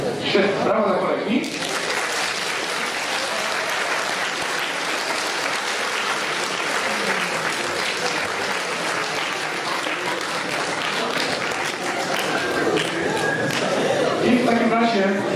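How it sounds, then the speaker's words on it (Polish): An audience bursts into sustained, loud applause for a colleague after a tie-knotting demonstration, steady clapping lasting throughout with some voices mixed in. "Świetnie, brawo dla kolegi."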